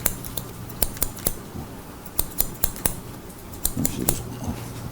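Scissors cutting hair with the scissor-over-comb technique: a series of sharp, close snips in an uneven rhythm, some in quick pairs, over a faint background hum, with no talking.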